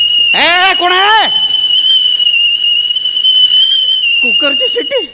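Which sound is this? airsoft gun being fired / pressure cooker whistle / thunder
pressure cooker whistle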